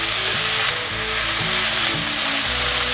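Makino bamboo shoots stir-fried with fermented mustard greens in a wok, a loud, steady sizzle with repeated scraping and tossing strokes, close up and without talk.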